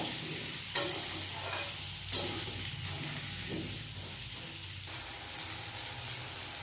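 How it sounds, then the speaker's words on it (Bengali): Potato and onion frying in a pan, a steady close sizzle with a few sharp spatula taps and scraping stirs at irregular intervals, no talking. "একটু হালকা লাল লাল করে ভেজে নেবো আলু আর পেঁয়াজটা"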